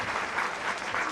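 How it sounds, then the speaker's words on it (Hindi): Audience clapping loudly and steadily at a Jain temple Panchkalyanak festival, Golden Temple Rohini, a dense burst of applause with no break. "एक बार जोरदार तालियां बजाओ"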